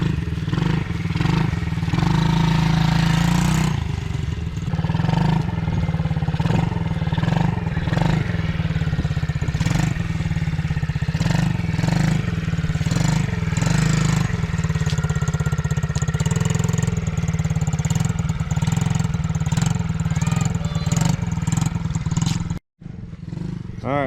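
A running SSR 70 pit bike dirt bike engine makes a loud, steady mid-pitched buzz that rises and falls with throttle changes and continues for most of the clip before cutting out briefly near the end.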